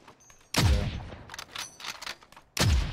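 Heavy booming shots of an AK rifle in Call of Duty Warzone, two loud close blasts with softer distant pops in between.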